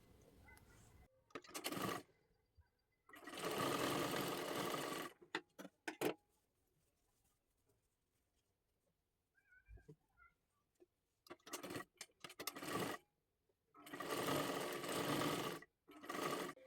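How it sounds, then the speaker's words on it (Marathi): A sewing machine stitches a lehenga dress made from a bordered saree, running in several loud bursts of a second or two each, separated by quiet pauses with small handling clicks. "सर्वात आधी ही शिलाई मारून घ्यायची आहे"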